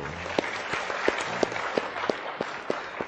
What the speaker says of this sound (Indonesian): Selamat datang tepuk tangan untuk beliau.